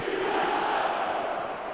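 Stadium crowd noise from an eFootball match, a steady, dense roar of massed voices filling the space evenly without gaps, building a sense of anticipation.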